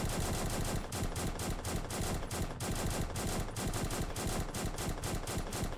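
An N1A single-shot rifle fires on the testing range in the video game One Armed Robber, a dense run of sharp, evenly spaced reports in close, loud succession.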